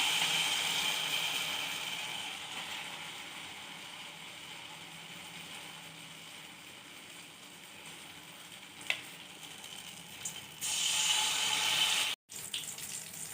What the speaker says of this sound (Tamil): இப்போ போட்டு இப்படி ஒவ்வொரு ஒன்றையாக பொரிச்சு எடுத்துக்கணும்.